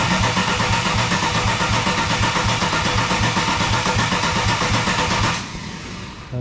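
Ecotec engine freshly swapped into a VY Commodore, running off the headers: loud, close, raw roar that holds steady for over five seconds, then drops sharply to a quieter rumble with no talking.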